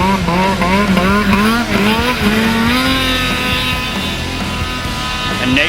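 A 600 mod class snowmobile races up a hill climb course, its engine wailing loud and steady with rising and falling pitch as it leans through corners, a continuous high-revving two-stroke drone close by.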